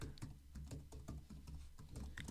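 Someone types an email address on a computer keyboard, a quick uneven patter of keystrokes close by, with no talking.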